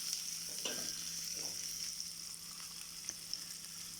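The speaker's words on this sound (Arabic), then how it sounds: "نديهم كده تشويحة مع الزيت" Onion and green pepper sizzle in hot oil in a frying pan, a steady close frying hiss with a few soft stirring scrapes, no voices.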